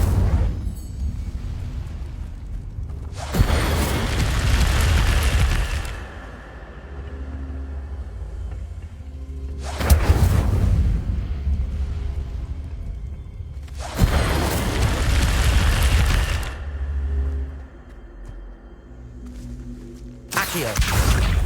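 In the Hogwarts Legacy video game, the Incendio fire spell bursts out again and again as loud roaring whooshes and booms. Quieter game sound fills the gaps between the blasts.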